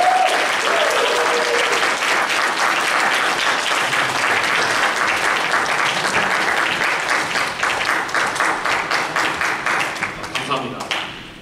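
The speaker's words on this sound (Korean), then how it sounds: "박수로 맞이해볼까요?" An audience applauds at a Korean church youth worship service to welcome a speaker, a full, dense burst of clapping from a room of people that thins and fades toward the end.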